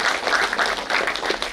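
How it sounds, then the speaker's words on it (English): A crowd applauding steadily, a dense wash of clapping hands that stays loud and even throughout. "Give him a round of applause."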